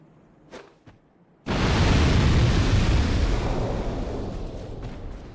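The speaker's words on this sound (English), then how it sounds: "That's how you throw a fucking firebomb, jackasses." A firebomb is thrown in Dark Souls 2. After a couple of soft thuds it erupts into a loud, sudden explosion, and a heavy roaring burn rumbles on and slowly fades.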